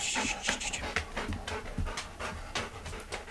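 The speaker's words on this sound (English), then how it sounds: "And here's the dog." A dog pants close by in a steady, rhythmic series of quick breaths, with no talking over it.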